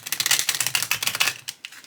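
A deck of thick, standard-sized tarot cards is riffle shuffled, giving a fast, close, crisp flutter of card edges in two quick bursts, the second tapering into a few scattered snaps.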